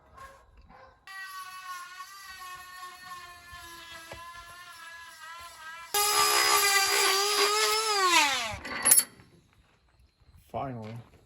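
A power drill whines at high speed, its pitch shifting as it bites into a metal part on a Chevy, then a louder burst before it stops and restarts briefly.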